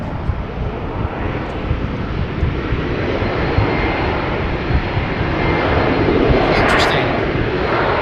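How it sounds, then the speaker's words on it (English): A KLM airliner, flight 1919 to Zurich, at Amsterdam Schiphol Airport produces a loud, broad engine roar that holds steady and builds slightly toward the end, with voices audible beneath. "This is KLM flight 1919 to Zurich."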